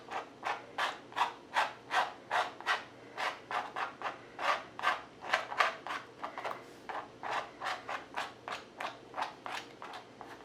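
A palette knife scrapes paint across canvas while painting clouds, making a steady run of short, rasping strokes in a quick rhythm, close and moderately loud, with no talking.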